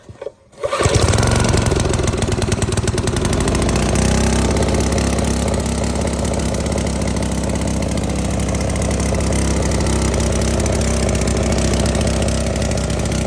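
A carbureted engine on a wasteland racer build catches after a brief cranking burst, then settles into a steady, loud, close running drone with a constant rough idle for the rest of the clip.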